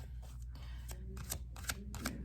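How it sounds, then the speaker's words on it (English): Tarot cards being shuffled close by, a rapid riffling patter in several short bursts over a low steady background hum. "I shuffle the cards and get a couple before I start reading into this energy here"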